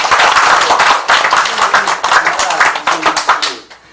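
A small audience claps in a lively, uneven burst of close hand claps lasting a few seconds, then fades out.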